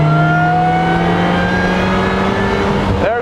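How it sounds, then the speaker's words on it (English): Supercharger whine from a Rezvani Beast Speedster, a 300-horsepower $140,000 sports car, rising steadily in pitch as the car accelerates hard, loud and close with a strong engine drone and no talking. "There's the supercharger, and we're off."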